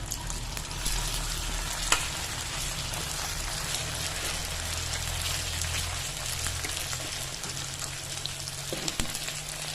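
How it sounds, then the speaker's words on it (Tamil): Slices of boiled taro root deep-fry in hot oil in a kadai, giving a dense, steady sizzle and crackle throughout, with an occasional soft knock of a utensil and no voices. "இப்போ ஃப்ரை பண்ண போகிறோமா. எண்ணெய் நல்லா வானலில் காய வச்சுருக்கேன்."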